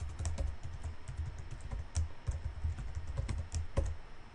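Computer keyboard typing, a steady close run of light key clicks at an even brisk pace, alone.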